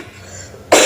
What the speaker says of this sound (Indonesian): Maaf Bu, batuk.